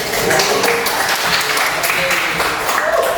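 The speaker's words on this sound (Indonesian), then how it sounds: "kasih tepuk tangan dulu untuk Ricky" Classroom applause for a student named Ricky during a physics lesson on wave properties, a steady wash of many hands clapping close by for a few seconds, with a voice or two underneath.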